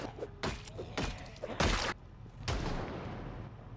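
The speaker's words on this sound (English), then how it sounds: "That was a meta event gunshot thing." Distant gunshots from a meta event in the zombie survival game Project Zomboid, four or five muffled thumping bursts spaced irregularly over quiet background.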